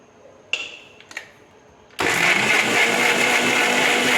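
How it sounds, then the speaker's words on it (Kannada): A kitchen mixer grinder starts up after a few small knocks and clatters, then runs at a loud, steady whir while grinding poppy seeds, cardamom, cashews and coconut. "ಆಮೇಲೆ ಗಸಗಸೆ ಏಲಕ್ಕಿ ಗೋಡಂಬಿ ಕಾಯಿನ ಚೆನ್ನಾಗಿ ರುಬ್ಕೊಳ್ಳೋಣ"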